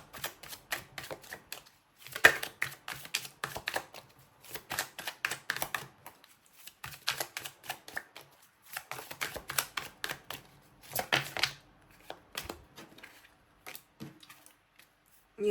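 Tarot cards being shuffled and handled from a deck, bursts of crisp riffling and flicking separated by short pauses, close by and quiet, with no talking.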